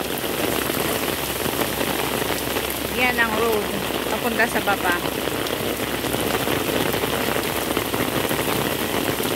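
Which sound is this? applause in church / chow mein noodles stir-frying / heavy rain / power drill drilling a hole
heavy rain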